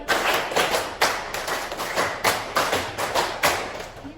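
A classroom group claps together in a patterned rhythm, bursts of quick claps separated by short gaps, loud and close and repeated several times over.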